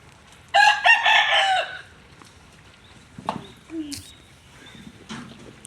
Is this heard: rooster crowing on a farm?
yes